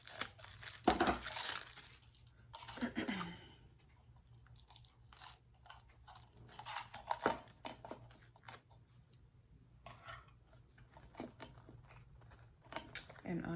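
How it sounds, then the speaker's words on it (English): A spool of ribbon for a candy cane craft is opened and unfolded by hand, with close, intermittent crinkly rustles and crunchy bursts separated by quieter gaps. "So let's get our next ribbon open."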